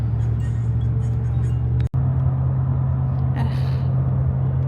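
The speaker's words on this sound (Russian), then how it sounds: "Сейчас мы едем по дороге в Табагу." Steady interior road noise from a car driving along the road to Tabaga, with a continuous low hum and rumble, a brief dropout midway, and some faint higher noise later.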